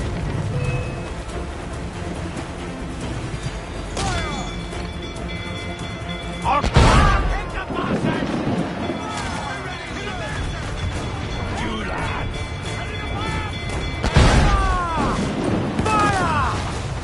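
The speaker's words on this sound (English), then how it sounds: "To quarters all, man the cannons!" Two heavy booming ship cannon blasts a few seconds apart cut through a dense, rumbling video game soundscape, with shouted voices and clatter in between.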